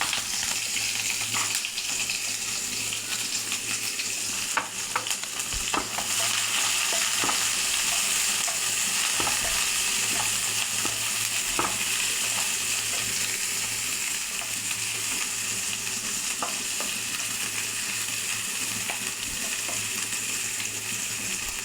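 Chopped onion and green chilli frying in a pan for a bitter gourd stir-fry, a continuous dense sizzle with occasional faint stirring ticks, steady and close throughout, no voices.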